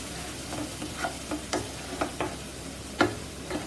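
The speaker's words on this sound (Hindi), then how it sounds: "इसको एक मिनट तक अच्छी तरह से भून लेते हैं कि मसाला मिक्स हो जाए सारा" Masala frying in a kadhai while being stirred, a soft steady sizzle broken by regular scraping strokes of the spoon against the pan, close up and with no talking.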